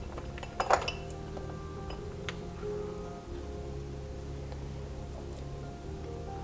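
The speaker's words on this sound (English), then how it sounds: "In here, I'm gonna add these chocolate spoons." Chocolate spoons are dropped into a container, giving a few bright clinks and rattles in a short cluster, then faint scattered taps against a quiet room background.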